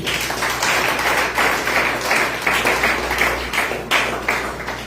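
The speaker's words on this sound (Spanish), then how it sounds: "Denle un aplauso al Señor" Steady, dense applause from a church congregation, sustained as one broad wash of many hands clapping for the Lord, with no talk over it.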